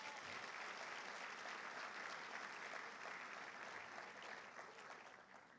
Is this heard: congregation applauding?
yes